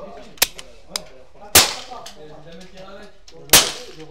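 Quiet shots from a Berca Tunder pistol, heard as three sharp dry cracks spaced about a second and two seconds apart, with faint clicks between them and a brief ringing decay after each.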